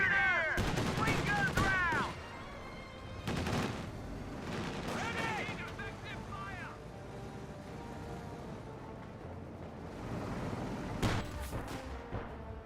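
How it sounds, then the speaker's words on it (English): A Vickers machine gun firing in the video game Company of Heroes 2, with rapid bursts and scattered gunfire booms over an ongoing battle, while a commentator talks over it. "Vickers firing away"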